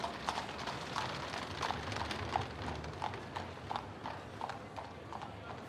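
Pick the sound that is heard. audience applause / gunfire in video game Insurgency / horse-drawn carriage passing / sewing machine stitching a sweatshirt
horse-drawn carriage passing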